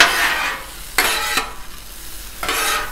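Shrimp and broccoli stir-fry sizzles loudly on a 36-inch Blackstone griddle while a spatula scrapes and tosses it in a few sharp strokes, close up and without talk.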